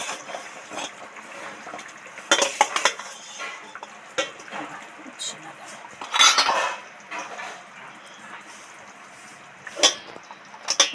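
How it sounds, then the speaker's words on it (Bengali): Cauliflower pieces tipped into a bubbling fish curry of katla with a thin gravy, with metallic clinks of a ladle against the pot and wet stirring in short bursts, loudest near the middle and end. "এবার ফুলকপিগুলো সব ঝোলের মধ্যে উঠিয়ে দেব।"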